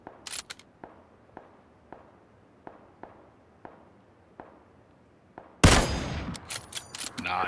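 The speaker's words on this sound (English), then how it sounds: "There's still shots off to your right." Rapid volley of sharp video game gunshots up front, then steady evenly spaced single shots fading in a quiet stretch before a loud, dense burst of gunfire erupts near the end.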